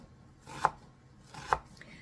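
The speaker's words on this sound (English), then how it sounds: "So I'm just chopping up a small, medium to small onion." Two sharp knife chops through a small-to-medium onion on a cutting board, spaced about a second apart, quiet and close with no talking.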